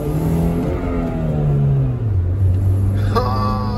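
A supercharged 2005 Chevy Cobalt SS engine revs steadily close by, its loud pitch climbing then hanging high before settling back, with a brief faint vocal sound near the end.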